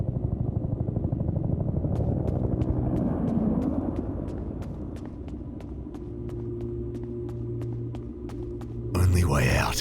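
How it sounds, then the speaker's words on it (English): A deep, steady rotor rumble with a rhythmic chopping pulse from an evacuation helicopter hovering nearby in the video game Peridium, continuing at a constant loudness with a low engine drone. "Is that the evac chopper?"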